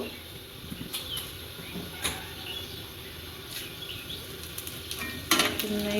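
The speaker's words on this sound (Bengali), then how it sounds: "কড়াইয়ের মধ্যে তেল দিলাম, শুকনো লঙ্কা দিলাম, তেজপাতা দিলাম" Quiet sizzling of dried chillies, bay leaves, cardamom and cinnamon in oil in a pan, with occasional clinks of a utensil against metal and light stirring sounds.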